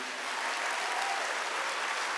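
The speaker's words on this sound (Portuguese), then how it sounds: "Pode aplaudir." A church congregation gives a short burst of applause, an even wash of many hands clapping at a steady level from start to finish, with no talking.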